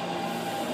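A steady, loud rumbling hum of a Taipei metro (MRT) train idling at a station platform, with no voices.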